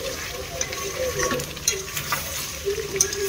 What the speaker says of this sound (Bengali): এই যে আমার মাটনটা কষানো হয়ে এসছে, আর একটু হালকা কষে নেব।